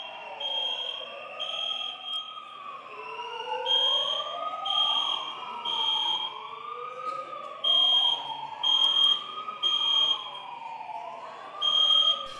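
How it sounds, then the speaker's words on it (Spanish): Several emergency sirens and megaphone sirens wail together during a national evacuation drill, overlapping rising and falling tones, with a high repeating alarm beep pulsing on and off above them. "A las 10 de la mañana sonaron las alarmas."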